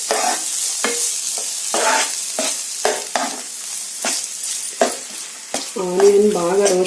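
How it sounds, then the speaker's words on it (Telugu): Onions frying in six tablespoons of oil for a chicken red roast, with repeated scraping stirs and clatters over a soft sizzle, close and fairly loud, with a brief tonal sound near the end. "ఆనియన్స్ మనకి మంచి కలర్ వచ్చేంత వరకు ఫ్రై చేసుకోవాలి"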